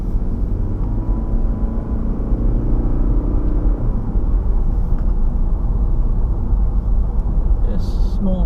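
A small car engine runs with a loud, continuous low rumble and whir that stays close and steady throughout.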